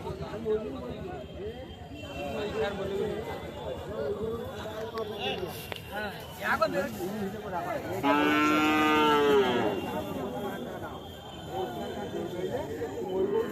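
A native cow at a cattle market in Dakshin Barasat lets out one long, loud moo amid a busy crowd of people talking nearby, with murmured chatter before and after.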